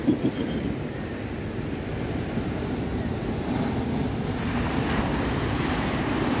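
Ocean surf rolls and breaks in a steady, continuous wash of noise, with wind buffeting the microphone throughout and no voices.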